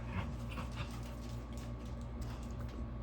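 A dog growls and whimpers at another dog, Theo, who is lying in her usual spot on the corner of a bed. The sound is continuous and low, close by, with the rumble and soft whining holding steady across the moment.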